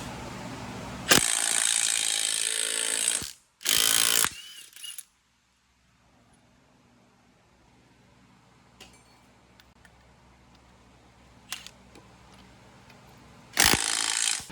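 Front tires come off a 2018 Polaris Ranger 1000 XP with loud bursts of ratcheting power tool noise, separated by quieter stretches of small clicks and shop background.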